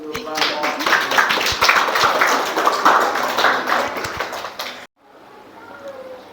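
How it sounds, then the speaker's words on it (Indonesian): An audience gives a burst of dense, rapid clapping after a classroom presentation, lasting about five seconds before stopping abruptly into quiet room tone. "Kita kasih aplaus dulu."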